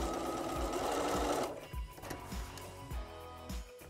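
Sewing machine stitching a faux fur and felt tail for a skunk costume, a steady rapid whir at first, then broken into short bursts with soft thumps between.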